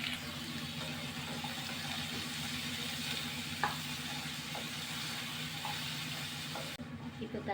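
Onions and tomatoes frying over a medium flame for a Tamil-style paneer masala curry, giving a steady, even sizzle with soft stirring taps and a low background hum, no voices.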